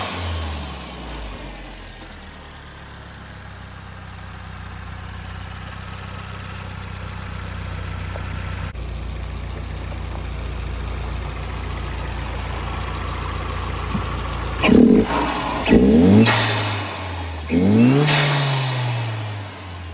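A 2010 Hyundai Genesis Coupe R-Spec 2.0T fitted with a GReddy-style FV blow-off valve idles steadily, then revs sharply twice near the end, each rev followed by a quick venting release, close and loud.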